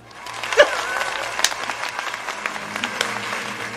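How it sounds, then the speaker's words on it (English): Audience applause breaks out after a call for a round of applause before a feast, a short burst of dense clapping that peaks early and then carries on at an even level. "let us have a round of applause"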